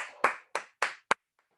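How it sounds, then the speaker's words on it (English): A lone person claps after finishing a fitness workout: four sharp, close hand claps in a quick, slightly uneven rhythm, followed by faint trailing taps and silence. "give yourself a round of applause"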